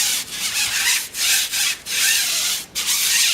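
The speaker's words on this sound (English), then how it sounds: "we're going to take our tire brush and we're going to scrub down the inside of the tires" A stiff tire brush scrubs the inside of car tires on spur wheels in four loud, close back-and-forth strokes with short gaps between them.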